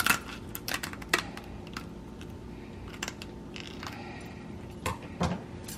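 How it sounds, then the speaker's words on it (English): Kitchen scissors crunch through a lobster tail shell in a series of close, crisp snips and cracks, with short pauses between the cuts. "Cut your lobster tail open."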